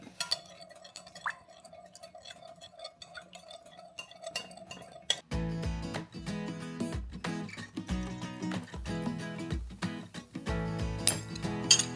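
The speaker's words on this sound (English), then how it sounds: "Stir that in there." Vitamin E oil is stirred into melted homemade deodorant. It starts as a quiet stretch with a faint hum, then turns into a quick run of light, close clinks and taps of a utensil against a small container.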